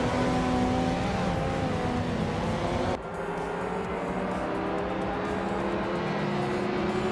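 Engine of a 1992 Honda Civic Si in a racing video game, a steady droning rev with harmonic whine accelerating off the line, loud and continuous, with a brief dip before the pitch climbs again.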